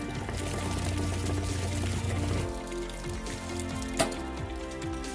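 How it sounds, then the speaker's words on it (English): Water pours and gurgles steadily as it drains from a camper's water heater after the plug is pulled, close and continuous, then thins to a lighter trickle with a single sharp knock midway. "Just pull the plug, simply drain the water."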